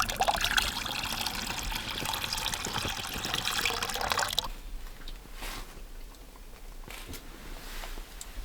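Water from a small meltwater stream beside a cabin, taken for cooking and drinking on a ski trip to a wilderness bog, a steady close rush and trickle that drops to a quieter gurgle halfway through.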